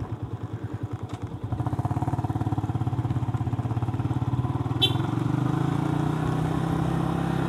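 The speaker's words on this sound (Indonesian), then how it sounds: "Di sana ada motor." A motorcycle engine runs close by on a road near Wadaslintang, starting with a lumpy idle and then holding a louder, steady, buzzing drone as it passes, with no other sounds over it.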